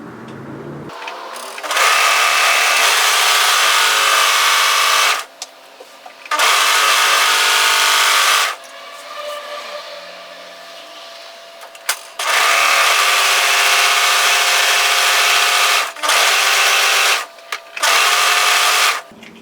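An overlocker sergeing and finishing a fabric edge for a floaty sewn top runs in several loud, steady bursts of high-speed stitching, with brief pauses between runs and no talk.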